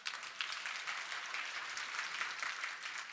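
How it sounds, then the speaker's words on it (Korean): Steady applause from an audience at a corporate award presentation for customs compliance, a dense even patter of many hands held at one level for the whole stretch, with no voices over it. "박수 한 번만 요청드리겠습니다."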